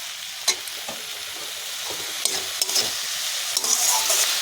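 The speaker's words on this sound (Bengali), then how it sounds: "শাকটা দিয়ে আমি ভালো করে নাড়াচাড়া করে নেব।" Dhenki greens fry in a pan with a steady hissing sizzle, broken by a few sharp scrapes and clacks of a spatula stirring them up close; nobody speaks.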